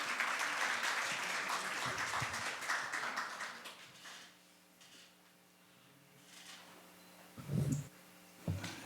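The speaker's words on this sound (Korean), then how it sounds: "목사님 박수로 모시도록 하겠습니다." Audience applause welcoming a pastor at a worship conference, a fairly faint wash of clapping for about four seconds that dies away, followed by quiet room noise and a couple of brief knocks or bumps.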